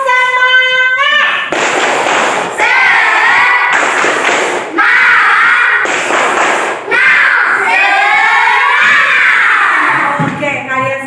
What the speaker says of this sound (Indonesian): sekarang kita lakukan tepuk semangat